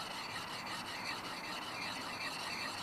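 Bearded axe edge being sharpened with a coarse stone, a faint continuous rasping scrape that holds steady for a few seconds with no talk.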